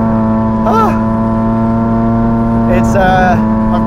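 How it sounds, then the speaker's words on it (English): Ferrari 458 Speciale V8 fitted with a Novitec straight-pipe exhaust, a steady loud idle with two short sharp revs rising and falling, close by. "this one has got a Novitec exhaust system on it that is apparently rather ludicrous"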